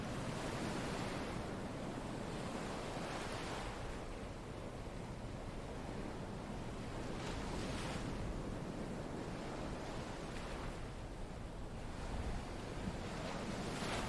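Ocean waves roll and wash steadily at sea, a continuous broad rushing surf with gentle swells recurring every few seconds, fairly faint and with no voices.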